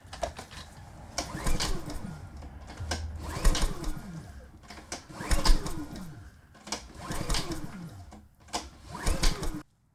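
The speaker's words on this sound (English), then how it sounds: "I'm going to crank the generator over a few times" A portable generator engine cranked over repeatedly by its recoil pull starter without starting, giving several rhythmic bursts of rapid mechanical chugging, each a few seconds long, separated by short pauses, heard close up.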